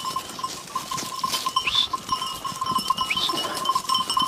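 Flock of sheep and goats moving on open farmland as mixed herds join, a faint bustle of shuffling hooves and a few soft bleats at a distance, with no talk.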